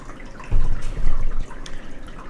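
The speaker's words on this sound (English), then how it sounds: "we'll just pour it in on top." Nutrient solution poured into a small hydroponic net cup: a short liquid splash and trickle builds up close by for about a second, then tapers into faint dripping, with no talking.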